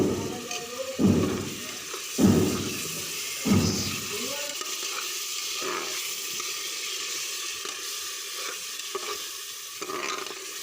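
Tomato paste stirred in a hot pan for a chicken curry: three loud scraping stirs with sizzling in the first few seconds, then a steady, quieter frying hiss with occasional soft clinks.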